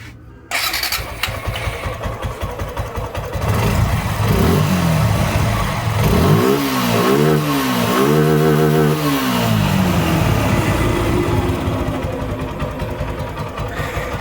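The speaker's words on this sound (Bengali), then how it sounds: "এটা হচ্ছে সুজুকি জিক্সার নেকেড ভার্সনের বাইক।" A Suzuki Gixxer naked motorcycle with fuel injection starts up, then its engine revs repeatedly in rising and falling sweeps before settling back to a steady idle, loud and close with no talking.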